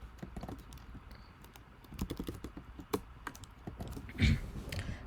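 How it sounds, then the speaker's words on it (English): Keys clack in quick irregular bursts on a computer keyboard, close and fairly quiet, with a louder thump near the end. "I'm typing this wrong"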